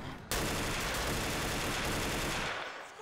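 Combat pistol gunfire in the video game Mirror's Edge, a dense continuous burst of rapid shots that starts abruptly and roars for over two seconds before fading, loud and without talk.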